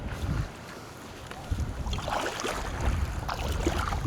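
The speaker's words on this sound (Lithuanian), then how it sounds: "Čia labai stipriai vėjas kažkaip." Strong wind blows over a lake while someone floats on an inflatable mattress, giving a steady, loud rush of buffeting microphone noise with faint water movement beneath it. No clear talk is heard.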